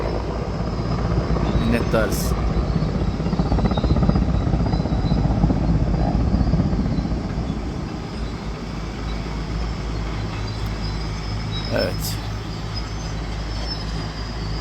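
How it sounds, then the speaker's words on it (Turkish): A loud, steady rotor drone of a Turkish military helicopter overhead fighting a wildfire in Manavgat, easing slightly partway through, with a brief spoken word near the end. "Yani askeri helikopter, üzerinde kamuflaj var"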